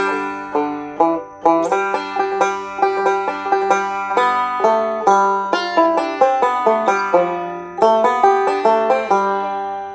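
A plucked banjo picks a bright, twangy phrase that steps down the scale from F in an even rhythm, each pluck ringing briefly before the next.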